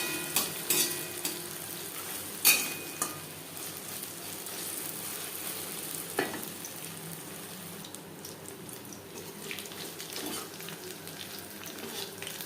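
Chicken pieces fry in oil heated on high and cooked over medium flame for crispy fried chicken, giving a steady hissing sizzle with occasional pops and a few sharp utensil clicks near the start.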